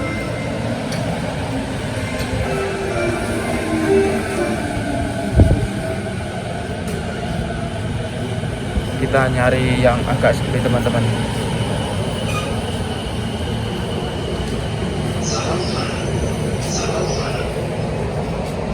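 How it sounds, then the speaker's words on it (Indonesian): A train rolls into a station in Japan with a steady rumble and a brief high wheel squeal, while a voice talks over the noise. "Nah ini kereta saya udah sampai."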